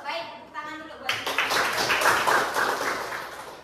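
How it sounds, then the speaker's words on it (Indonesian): A class of junior high school students in a mathematics lesson bursts into dense, steady applause after a voice, which continues for a few seconds at an even, fairly close level. "Baik, tepuk tangan dulu buat kita."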